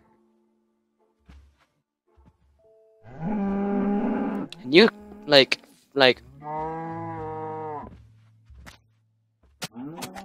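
Cows in the Minecraft game on Xbox 360 letting out several loud, drawn-out moos in a row, with brief gaps between them and a short bit of talk.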